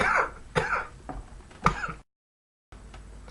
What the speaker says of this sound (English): I just had a little cough fit.